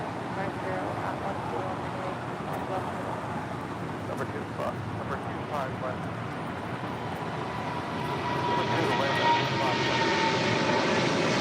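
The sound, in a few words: Boeing 777 freighter jet rolling down runway for takeoff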